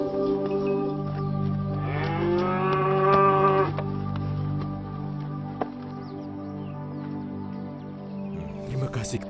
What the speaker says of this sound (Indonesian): Saya kembalikan sapi-sapimu.